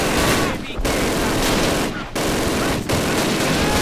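Sustained, loud automatic gunfire in the Call of Duty video game roars almost continuously, broken by three short pauses, with no talking over it.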